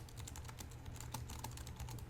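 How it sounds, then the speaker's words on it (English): Loud computer keyboard typing, a quick irregular flurry of clacking keystrokes close up over a low background hum, with no speech. "I know my keyboard can be loud."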